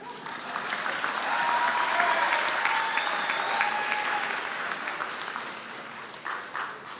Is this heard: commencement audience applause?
yes